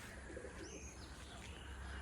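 Soft low cooing of pigeons nearby, a brief murmuring call over a faint outdoor hiss, with no speech.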